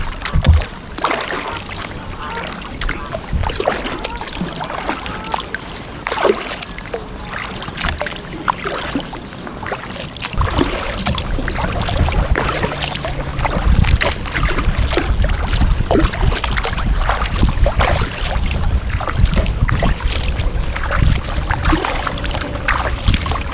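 A kayak sits on water with splashing and sloshing close by, blended with gusting wind noise on the microphone. The sound grows louder and more turbulent partway through, as someone climbs out of the boat.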